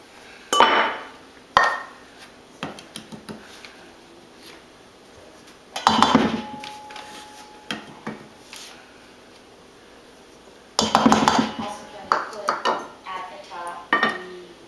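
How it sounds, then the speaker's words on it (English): Eggs are whisked together in a kitchen bowl, giving bursts of clinking, scraping utensil strokes against the dish, with pauses between rounds and a longer busy stretch near the end. "And you're going to whisk that together."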